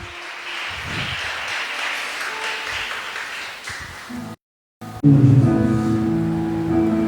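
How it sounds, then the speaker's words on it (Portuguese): A church congregation claps during a Wednesday evening worship service. Steady applause fills the room, drops out briefly for a moment, then comes back with music and singing swelling underneath. "Aplauda o Senhor nesta noite."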